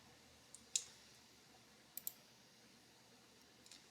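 A computer mouse clicks while working in Revit: a handful of faint, crisp clicks, some in quick pairs, spread out over near silence.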